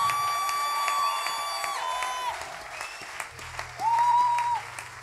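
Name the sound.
church congregation applauding and cheering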